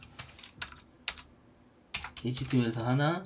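Close keyboard clicks as code is typed on a computer: a few sparse keystrokes, then a quick burst. A voice starts speaking at the end.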